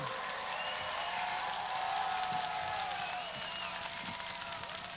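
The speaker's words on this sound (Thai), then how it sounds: "ขอเสียงปรบมือให้กับแกนนำขวัญใจของเรา อาจารย์สมเกียรติพงไพบูลย์" Crowd applause at a political gathering at Suvarnabhumi Airport, a dense, steady wash of clapping held at even loudness throughout, with cheering voices and a brief whistle-like tone rising through the middle.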